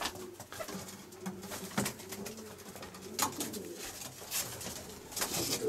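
Pigeons coo repeatedly in a small breeding loft, soft throaty calls overlapping near and far against a rustling background, with no talk.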